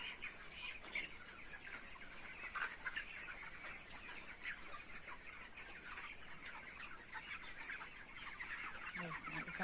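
Twenty-day-old poultry birds in a net-enclosed shed give soft, overlapping clucks and cheeps, a continuous busy chatter at low level, with a faint voice nearby.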